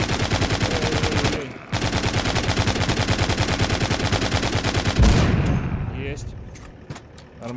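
Rapid automatic gunfire cuts down zombies in the game The Walking Zombie 2, loud fast bursts with a short gap and then a final heavy blast that trails off.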